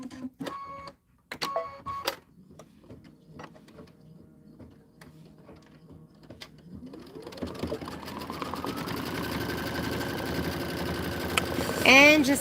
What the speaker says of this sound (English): and just let it stitch.